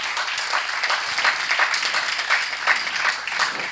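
A congregation at a Catholic Mass in a parish church applauds steadily and fairly close, many hands clapping in a dense, continuous patter with slight swells.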